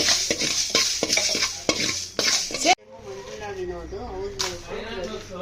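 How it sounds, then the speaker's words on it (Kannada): A spoon scrapes and clatters against a pan where fenugreek seeds fry with a light sizzle, a run of sharp strokes, then a voice briefly speaks over the quieter pan. "ಒಂಚೂರು ಮೆಂತ್ಯ ಹಾಕೊಂಡು ಫ್ರೈ ಮಾಡ್ಕೋಬೇಕು"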